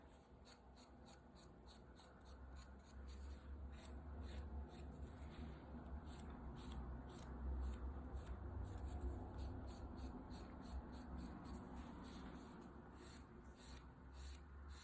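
A nail buffer is rubbed gently over a fingernail during a manicure, giving a soft, steady, close-up rasping with quick repeated strokes that continue throughout without speech.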